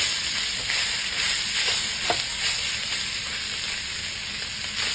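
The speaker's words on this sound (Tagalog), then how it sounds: "Masarap kasi mag-gisa sa patis eh." Garlic and onion sauté in a pan with fish sauce, a constant close hiss of frying broken by a few light utensil taps.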